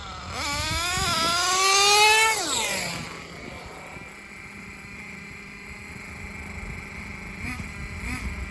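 A nitro-style RC car engine, an MGT 3.0 with a two-speed transmission, revs up loudly in rising, falling sweeps for about three seconds, then settles into a quieter steady idle.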